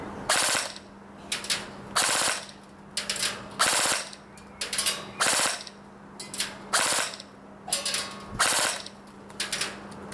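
A Double Eagle UTR45 airsoft gun fires about eight rapid bursts of sharp mechanical clatter, each burst lasting under a second and separated by brief pauses, loud and close.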